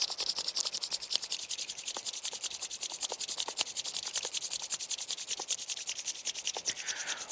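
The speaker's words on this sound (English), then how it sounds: "briskly rub your hands like this" Two hands rubbed together briskly, giving a fast, steady swishing friction that repeats without pause, close and clear, with no talking.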